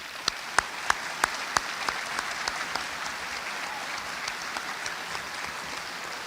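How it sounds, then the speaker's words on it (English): Audience applause for two debate participants at a live podcast taping, a steady bed of clapping with a few sharp louder claps standing out early, moderately distant and continuous throughout. "please give these two participants a round of applause"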